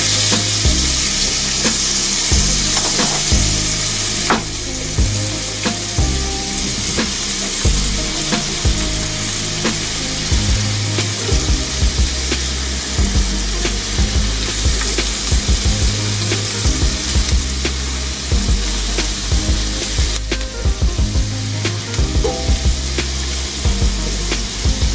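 Onions frying steadily in a pan for a shrimp mac and cheese, a continuous close, loud sizzle with scattered crackles and spatula scrapes, no voices.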